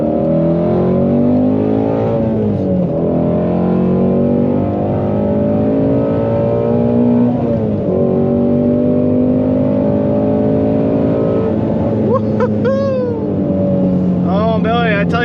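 A Ford Mustang Shelby GT350R Heritage Edition engine revs hard through repeated upshifts, each pull a rising loud howl falling at the shift, heard from inside the car, with speech-like sounds briefly over the end.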